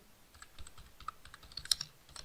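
Soft, fairly faint keystrokes tap on a computer keyboard while JavaScript code is entered, with scattered clicks and a slightly louder cluster near the end.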